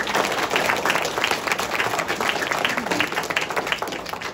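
Steady applause from the audience at a county historical society meeting, loud and close, a dense ripple of clapping sustained for over four seconds without talk.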